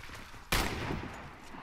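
A single sharp AMP DSR-1 sniper rifle shot in the game Warface, a sudden loud crack followed by a decaying echoing tail.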